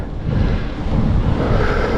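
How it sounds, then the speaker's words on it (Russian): Wind buffets the microphone during a ride on an old Radon hardtail bicycle, giving a loud, steady low rumble that barely changes and carries no talk. "Ветер легкий, встречный."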